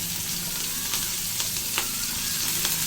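Green chillies dropped into hot oil with fennel seeds in a pan, frying with a steady close crackling sizzle and a few sharp pops.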